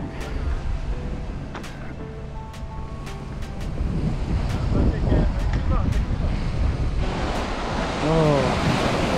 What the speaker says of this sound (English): Oh, it's wind.